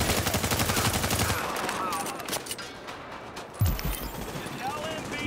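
Gunfire in a shootout in Tom Clancy's The Division: a dense burst of rapid automatic shots up front, then scattered, more distant shots, with a sharp close report near the end and voices talking over it.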